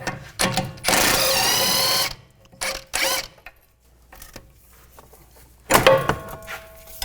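A power tool, likely an impact driver, buzzes in several bursts, one long and others short, while disconnecting the sway bar links on a car, close and loud with quiet pauses between.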